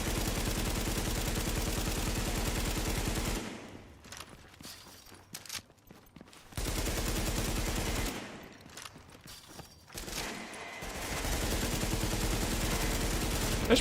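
Heavy automatic gunfire in the video game The Division comes in dense, loud bursts, broken by two quieter stretches with scattered shots and clatter, then resumes.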